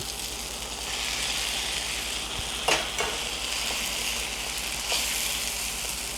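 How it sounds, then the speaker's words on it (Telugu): A spoon stirs ground paste into tamarind leaves and gongura cooking in a pan, a steady soft sizzle with a couple of brief scraping clinks against the vessel. "ఈ టైంలో ఇదిగోండి మనం నూరుకొచ్చిన ముద్ద, ఇది కలిపేస్తున్నా."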